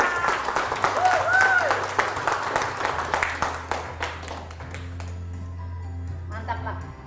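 A small group claps at a coffee product launch, with scattered hand claps over a low hum and a brief electronic tone, and the clapping thins out after a few seconds.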